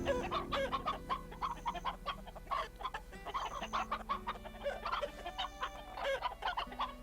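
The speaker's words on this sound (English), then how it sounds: "They're chickens, you can't trust their opinion." Chickens cluck on a farm in the video game Black Desert Online, giving a busy run of short, repeated clucks and squawks over a soft background of game music.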